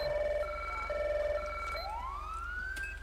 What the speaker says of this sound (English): Let's just do a quick little blip of the siren here.